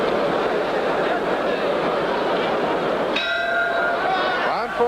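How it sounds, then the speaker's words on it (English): A boxing ring bell clangs to end round 13 of a heavyweight bout, ringing out with sustained metallic tones over loud, continuous arena crowd noise. "And there's the bell. End of round 13."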